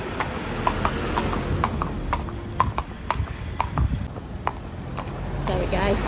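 Horses' hooves clip-clop steadily on a main road during a hack, a regular near rhythm of hard strikes over a busy low rumble of passing traffic, with people talking at times.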